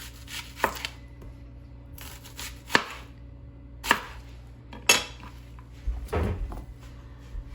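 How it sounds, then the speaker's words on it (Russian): A knife slices an onion into rings on a cutting board for a grilled vegetable salad, five or six sharp separate cuts spaced about a second apart, close and clear against a quiet kitchen. "Лук тоже кружочками."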